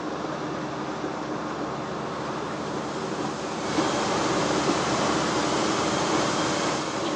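Inside the cab of a 5-ton cargo truck near 83 km/h, the driver presses the accelerator and a whooshing, wind-like whistle swells over the steady road roar about halfway in and then holds.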